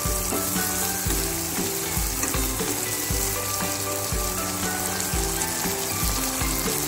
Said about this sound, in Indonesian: Kita masukkan bunga mengkudunya. Kita aduk ya, biar meresap bumbunya.